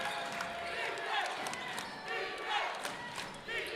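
A crowd at a men's college basketball game between Western Washington and MSU Billings cheers steadily for the Vikings, with a roaring, swelling din beneath an announcer's commentary.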